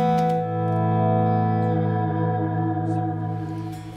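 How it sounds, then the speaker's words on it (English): A sustained electric guitar chord through a Silktone 12-watt KT66 tube amp rings out, washed in heavy reverb that lingers and slowly decays, with no talking. "sometimes I like having just gobs of reverb as an effect"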